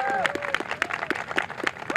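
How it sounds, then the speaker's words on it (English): An outdoor audience at a Boston garden contest ceremony claps in a quick, uneven round, sharp hand claps rising over background voices and crowd chatter. "So I want to just give a round of applause to the workers of the Boston Parks Department."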